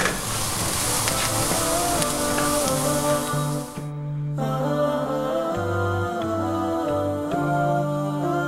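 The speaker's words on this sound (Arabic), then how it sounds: "نقلب." Chicken seasoned with black pepper and salt is stirred in a pot, starting with loud sizzling that drops away and leaves quieter bubbling with soft scraping and clinks.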